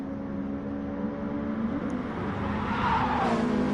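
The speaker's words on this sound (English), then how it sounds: "About to start his fastest ever lap around Brands Hatch." Race car lapping Brands Hatch in a racing video game, a continuous engine drone rising in pitch toward the end as it accelerates, with faint tire noise and no talking.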